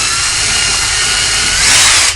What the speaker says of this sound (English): I use my drill to kind of core it out